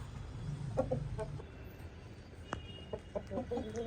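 Soft, short clucks from a rooster come in scattered bursts against a low background hum, fairly faint.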